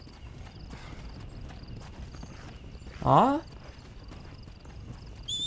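Horse hooves clip-clopping in the video game Red Dead Redemption: Undead Nightmare, with a sharp whinny rising near the middle over steady game ambience, and a voice speaks briefly.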